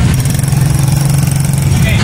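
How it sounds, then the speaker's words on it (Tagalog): Motorcycles running on a road, a steady mid-pitched engine drone with idling character continuing throughout, loud and close, with speech present over it. "May mga motor"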